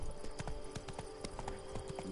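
Rapid clip-clop of hooves of a horse at a gallop in the video game Witcher 3, a steady rhythmic drumming under a continuous low background hum.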